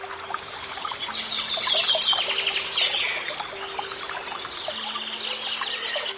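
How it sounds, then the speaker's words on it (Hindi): In a cartoon scene, a river flows with a gentle continuous trickle while small birds chirp and tweet repeatedly above it, calm and fairly close, with no talking. "यहाँ पर चिड़ियों की आवाज़ और नदी के बहने की मधुर धुन मन को बहुत शांति देती है।"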